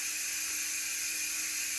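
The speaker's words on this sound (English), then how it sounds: "if you hear a lot of noise in the background, that's my canner going" An electric water bath canner runs in a home kitchen with a steady, unbroken hiss and a faint tonal hum, constant in level throughout, with no voices.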